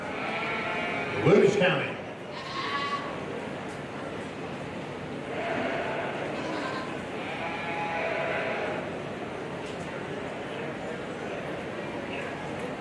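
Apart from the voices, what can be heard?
goat bleating at a livestock show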